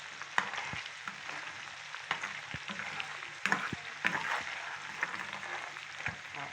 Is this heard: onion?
yes